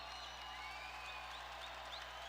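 Basketball crowd at Banterra Center for an SIU game cheering and clapping, faint and distant, a steady wash of noise with a low hum underneath.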